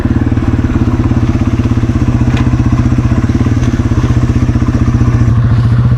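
Motorcycle riding a rocky trail, its engine thrumming loud and close in a steady, rapid pulse, with faint clatter from the rough ground underneath.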